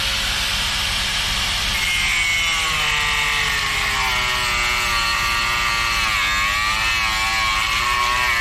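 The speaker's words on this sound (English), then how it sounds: "I'm going to cut it down to length using an angle grinder." An angle grinder cuts a wooden piece to length for a sawhorse, a steady loud whine that holds throughout with a slowly shifting pitch and no voices.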